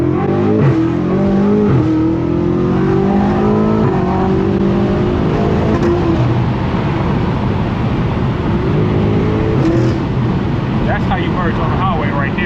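A BMW F90 M5 accelerates hard onto a highway on a cold tire, its engine roaring loudly and rising through the gears from inside the cabin, with a voice talking over it.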